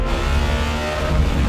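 Bugatti Tourbillon's naturally aspirated 16-cylinder engine running loud and close, a dense, steady engine roar with continuous low rumble and no speech.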